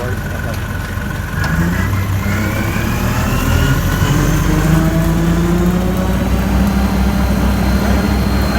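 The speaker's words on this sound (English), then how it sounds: "Now bring up your RPMs." A Kubota tractor engine rises from idle into a steady higher rev, loud and close, with a rising drone that then holds level, alongside talking.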